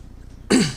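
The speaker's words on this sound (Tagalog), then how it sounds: "Bakit laging may ubo?" A single abrupt, close cough bursts out after a quiet pause, a short harsh throat-clearing hack that fades quickly.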